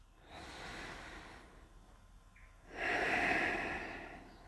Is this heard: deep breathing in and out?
yes